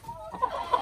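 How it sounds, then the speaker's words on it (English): Cochin chickens cluck in a short burst of soft, close hen calls with a couple of sharper peaks, heard alone without talk. "Look how big my Cochin chickens are getting."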